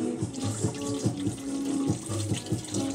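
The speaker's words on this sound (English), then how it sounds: "so this we pour carefully. Face the stout towards you." Stout beer poured carefully from a can, a steady liquid trickle and glugging stream with rhythmic pulses as it flows, close and clear with no talking.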